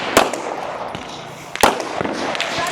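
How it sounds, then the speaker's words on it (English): Gunfire from a firing sequence at a regional men's elite shooting competition stage: two sharp, loud shots about a second and a half apart, over faint background noise. "ending his final firing sequence"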